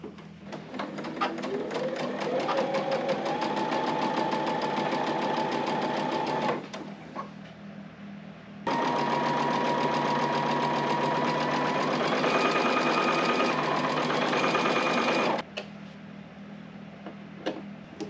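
A sewing machine stitches quilt squares for a checkerboard table topper with straight seams, whirring steadily in two long runs with a short pause between them, close and clear.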